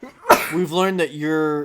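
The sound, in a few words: sneeze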